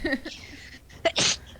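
A person sneezes once, a sharp close burst after a short breathy intake, preceded by brief vocal sounds.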